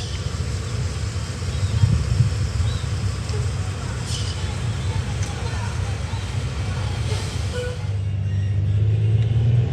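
A bus engine runs at a bus station, a steady, loud rumble that continues throughout with faint background station noise.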